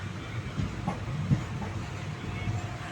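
A passenger train rolls along its rails, giving a steady low rumble with faint rhythmic clatter throughout, at moderate level without talk.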